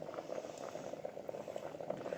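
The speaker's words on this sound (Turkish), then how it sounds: "Aha da şekere yatırılmış kabağımız kaynıyor" A steady bubbling simmer of pumpkin in sugar syrup boiling in a pot, continuous soft popping and gurgling close by, with no voices.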